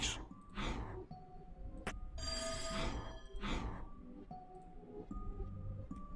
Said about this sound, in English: What was that sound like a ringing bell?